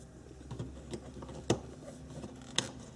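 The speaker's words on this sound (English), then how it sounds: "Just prying this out." A trim removal tool pries out plastic car trim during a cruise control repair, giving a few sharp, close clicks and pops spaced over a quiet background.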